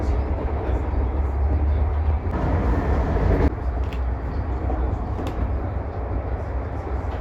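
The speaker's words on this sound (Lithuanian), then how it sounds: "Traukinys už kelių minučių išvyksta" A passenger train in Lithuania bound for Lentvaris gives off a steady, loud rumble from the moment it pulls away. The dense low drone holds throughout, with brief shifts in its tone partway through.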